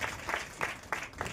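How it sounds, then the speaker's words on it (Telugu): A church congregation claps in unison to glorify God: a short run of evenly spaced, fairly faint rhythmic claps. "గట్టిగా చప్పట్లు కొట్టి దేవుని మహిమపరచుతాను"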